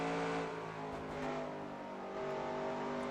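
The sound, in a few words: race car engine shifting gears in a video game race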